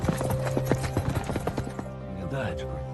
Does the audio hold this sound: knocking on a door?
no